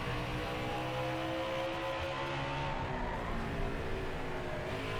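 A NASCAR race car engine roars continuously in the NASCAR Heat 5 video game during an Xfinity race at Bristol, a dense, steady drone held at full throttle with no break and no voices.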